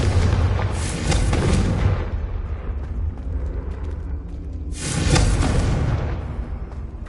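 A Confringo fire spell explodes in Hogwarts Legacy: two deep, roaring blasts, one opening the clip and another around the midpoint, each trailing off into a low rumbling tail with crackling debris in between.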